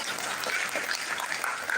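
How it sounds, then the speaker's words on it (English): An audience at an academic lecture on educational psychology and artificial intelligence claps in steady, moderately distant applause that continues without a break for the whole short moment. "Please, more round of applause to Prof."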